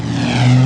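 Cartoon propeller airplane droning overhead at an air show, a steady loud engine hum with a low tonal whine holding throughout a brief moment, no voices.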